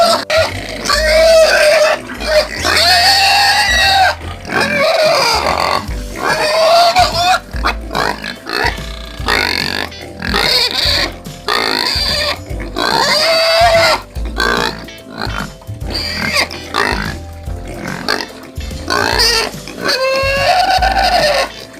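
Farm pigs grunt, oink and squeal loudly and almost without pause, a close, busy chorus with chicken clucking mixed in.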